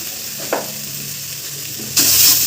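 Ground turmeric, cumin and coriander fry in oil for mutton kosa, a steady sizzle with a brief clatter of stirring, then a louder surge of hissing near the end.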